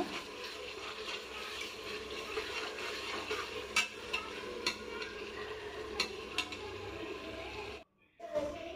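Ginger garlic paste sautéing in a pan: a steady low sizzle with periodic spatula scrapes and taps, fairly quiet, with a brief dropout near the end.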